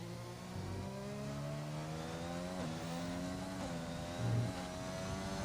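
Race car engines in a video game race at Britain, a steady high revving drone with rising and falling pitch as the cars shift through gears, continuous and fairly close, with no talk.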